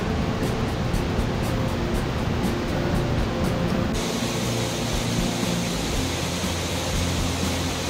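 Ryuzu Falls at Nikko, Japan, a twin cascade split by a central rock, roars as a steady, dense broadband rush of falling water, loud and continuous throughout with no voices.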